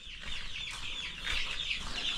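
Chickens cluck and chatter continuously, a busy flock close by with no talking.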